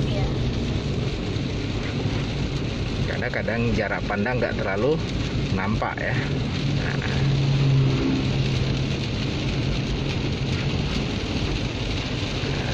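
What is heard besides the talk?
rain while driving a car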